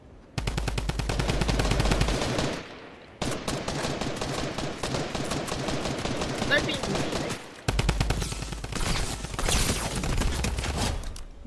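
Assault rifle fire in Fortnite Battle Royale, with three long, loud bursts of rapid automatic shots following each other almost continuously.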